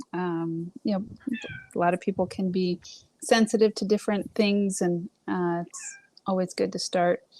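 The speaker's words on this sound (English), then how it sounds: "It sounds like a cat. That is my cat." A pet cat meows repeatedly between and under a woman's close conversational speech, the cries blending with her talk.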